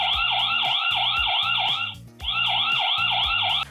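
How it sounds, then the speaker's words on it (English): A loud electronic siren from an ieGeek ZS-GX2S battery-powered security camera wails in rapid repeating sweeps, cutting out briefly before starting again, harsh and close. "and Siren, which sounds like this."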